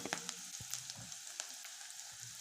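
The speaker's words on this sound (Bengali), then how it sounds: "ভালো করে কড়া করে ভেজে নিচ্ছি পেঁয়াজটা।" Onion being fried crisp in mustard oil makes a soft, steady sizzle with occasional small clicks and taps of stirring. It is fairly quiet and there is no talking.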